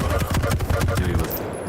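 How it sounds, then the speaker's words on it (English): Machine gun fire in a Quake match, rapid loud bursts of repeated shots packed close together for over a second before trailing off into a faint high tone. "Really good machine gun work."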